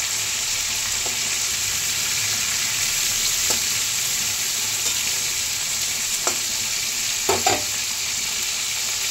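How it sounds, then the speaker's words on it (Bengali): Prawns fry lightly in oil in a pan with a constant, close hiss and sizzle throughout, broken by a few faint clinks and scrapes of stirring near the end and no speech. "এখানে চিংড়ি মাছ ভাজা হচ্ছে, হালকা করে ভাজবে"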